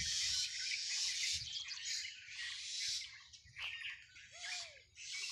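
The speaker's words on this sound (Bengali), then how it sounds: "পাখিগুলো কীভাবে কিচিরমিচির করে ডাকতেছে" Several birds chirp and tweet continuously in a tree in bright bursts, with a rising whistled call near the end, fairly close, no voices.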